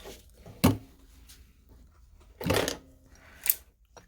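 A sewing machine stitching a half-inch seam on a messenger bag: two short bursts of close, loud whirring with a brief fainter run after, separated by quiet pauses, no speech.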